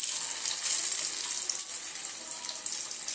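Fish fries in hot oil with garlic, ginger and masala, giving a steady, soft sizzle with a bright crackling hiss that carries on without a break.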